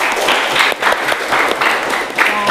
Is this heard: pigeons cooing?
no